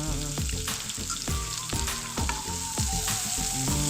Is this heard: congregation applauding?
no